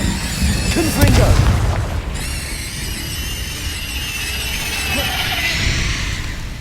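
In Hogwarts Legacy, the Confringo blasting spell erupts as a heavy boom with crackling debris, followed by magical shimmering tones and a softer rumble in the game's combat.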